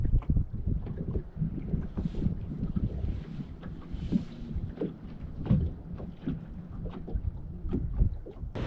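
Strong wind buffets a bass boat on Sam Rayburn lake, a steady low rumble of gusts and microphone wind noise with scattered knocks and water slaps, continuous and fairly loud throughout with no talking.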